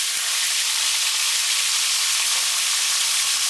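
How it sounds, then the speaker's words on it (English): Red snapper frying in an extremely hot pot, a steady, dense sizzle and crackle of hot oil that holds constant throughout, loud and close with no talking. "allow that to fry on one side"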